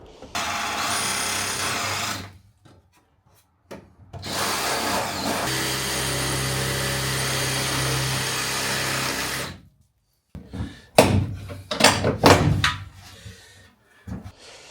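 A power drill bores out fittings during a camper van conversion, running in two long, steady, loud bursts, followed by brief clattering knocks and scrapes as parts are handled.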